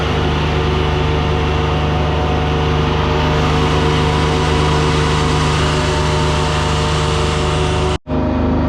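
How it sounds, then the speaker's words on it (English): A fairway mower engine runs at a steady, loud, even drone with a strong low hum and constant broadband roar, cutting off abruptly near the end. "let's get that fairway mower out in that fairway"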